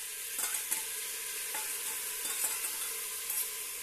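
Ground masala paste frying in a pan with turmeric and salt, a steady close sizzle with soft periodic scrapes of a spoon stirring through it.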